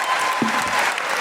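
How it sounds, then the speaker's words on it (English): Applause from a live comedy podcast audience, steady dense clapping that fills the whole moment, loud and close with no talking over it. "Big round of applause for Jessica Taylor."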